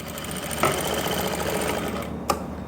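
Sewing machine stitching the seam along a pant pocket edge, a quick continuous needle rattle up close, with a couple of sharp clicks standing out.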